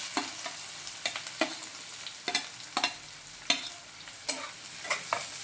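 Onion frying in hot oil with cumin and mustard seeds in a pan, a soft continuous sizzle punctuated by regular scrapes of a spatula stirring every half second or so, close and fairly quiet.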